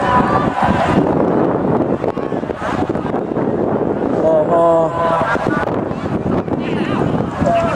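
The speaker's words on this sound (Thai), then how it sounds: "ลมแรงสมบูรณ์ไหมครับ ลมแรงสมบูรณ์" Strong wind buffets the microphone outdoors as a steady, loud roaring rush with gusty swells, continuous throughout, with crowd voices and talk faintly mixed in.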